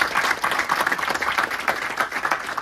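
An audience at a film premiere screening claps in a steady, moderately loud burst, the dense patter pulsing slightly as it carries on for a couple of seconds.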